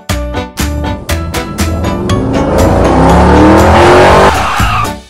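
Toy cars rev and skid, engines rising into a long tire screech that swells loudly and then stops abruptly, with sharp clicks and knocks before it and no talking.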